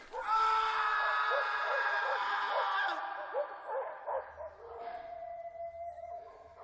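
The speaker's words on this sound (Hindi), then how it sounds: "अचानक कुत्तों ने भौंकना बंद कर दिया" Several dogs bark and yelp in a rapid, rhythmic run of sharp calls for about three seconds, fairly close and loud, then break off into quieter scattered sounds and a low hum.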